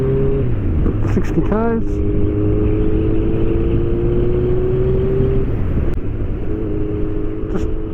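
A Kawasaki GTR1400 motorcycle fitted with a Delkevic full exhaust accelerates hard through the gears, loud and close, its engine note climbing with a shift partway through, while someone talks over it.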